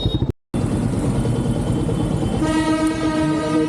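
A train rumbles past up close, loud and steady, and a sustained horn blast joins in partway through. There is a brief dropout near the start.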